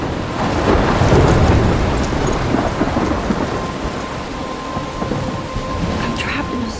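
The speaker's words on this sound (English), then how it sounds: "I'm trapped in a storm?" Heavy rain pours with rolling thunder in a storm in the video game Life is Strange, a loud, dense wash of rainfall with deep rumbles throughout.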